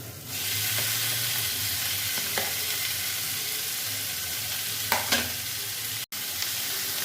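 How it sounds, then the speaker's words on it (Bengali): Mushrooms fried and stirred in a spice paste for a Bengali mushroom dalna, a steady loud sizzle in oil throughout, broken by occasional scraping stirs of the spoon and a brief sharp gap near the end. "মাশরুমটা দিয়ে ভালো করে আবার কষিয়ে নিচ্ছি।"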